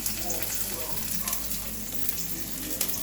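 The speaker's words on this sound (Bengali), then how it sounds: "এটা এখন আমরা তেলে ছেড়ে দেবো। তেলটা গরম হয়ে গেছে, এখন আমরা তেলে দিয়ে দেবো।" Chopped green chilli with onion and garlic hitting hot oil, a soft continuous sizzle and hiss holding steady at moderate volume over three seconds, with faint low murmuring in the background.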